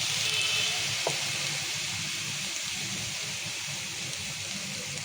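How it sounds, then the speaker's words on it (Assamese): Washed masoor lentils dropped into a hot pan of oil give a quiet, even sizzle with a faint bump near the start, then a steady hiss. "এতিয়া ইয়াতে মই দি দিম ধুই পেলাই থোৱা মচুৰ দালিখিনি"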